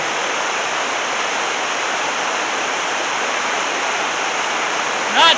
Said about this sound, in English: let's take a look at the river